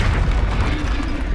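A Bombarda spell explosion in Hogwarts Legacy lands as a single deep, booming burst with a heavy low rumble that fades over about a second and a half.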